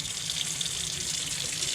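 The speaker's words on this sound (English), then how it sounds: "that's why I'm putting water in here" Tap water runs into a container holding a frozen, rock-solid pork shoulder, a steady close hiss and splash of filling water lasting under two seconds with no speech.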